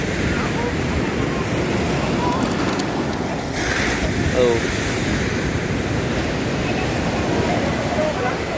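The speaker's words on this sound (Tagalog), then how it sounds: "Grabe yung alon na oh." Strong ocean waves pound a shoreline with eroded banks, a loud continuous roar of surf mixed with gusting wind buffeting the microphone throughout, and a person briefly calls out over it.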